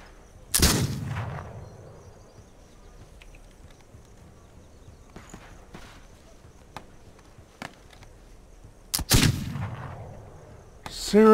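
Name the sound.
rifle gunfire in the video game This Land Is My Land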